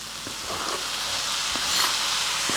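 Onion and four diced tomatoes fry with garlic in a pan, giving a steady close sizzling hiss that swells slightly, with faint clicks from stirring.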